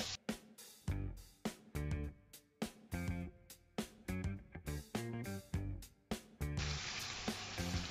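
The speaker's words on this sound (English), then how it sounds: "I'm going to fry this until the meat turns a bit brown." Pieces of lamb fry in a pot for lamb coconut rice, with repeated sharp clattering stirs and pops over a steady sizzle that swells into a louder continuous hiss near the end, close up with no voices.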